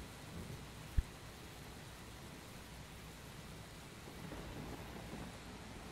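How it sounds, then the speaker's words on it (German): Steady rain hiss with a single sharp thunder crack near the start, then low rumbling swells later, fairly quiet overall, from the video game Heavy Rain Remastered on PS4. "So, mach hin, es regnet."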